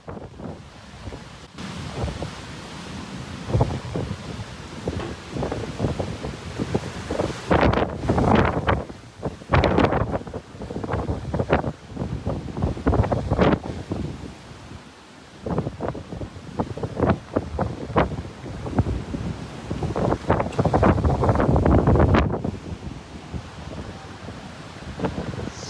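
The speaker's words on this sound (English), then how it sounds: "The sound of the wind has become louder with intense whistling and howling." Hurricane Ian striking a home in Cape Coral, Florida, with loud, surging gusts of wind roaring against the microphone in repeated waves, rising and falling with heavy buffeting and a low rumble throughout.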